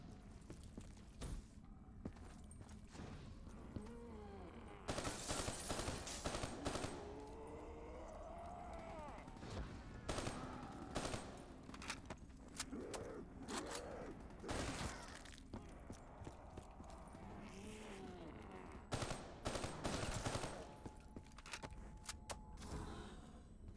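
Rapid gunfire bursts in a horror-themed video game, loud cracking volleys repeating across the stretch amid clattering mechanical game sounds, with someone talking throughout.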